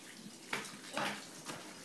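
Water trickles and splashes steadily in an indoor tree-shaped fountain in a living room, a soft continuous flow with a few louder gurgling surges, heard close.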